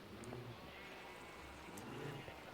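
Sheep bleating in the Minecraft video game, a few faint short bleats over a quiet background.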